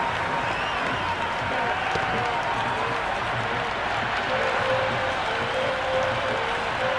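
A raucous crowd at a domestic one-day cricket match in a stadium, a dense continuous roar of cheering and clapping that stays loud and steady throughout, with a commentator's voice faintly mixed in.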